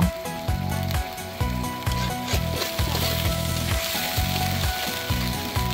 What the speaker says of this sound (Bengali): সবগুলো মশলা দিয়ে আমি কিছুক্ষণ নেড়ে চেড়ে কষিয়ে নেব।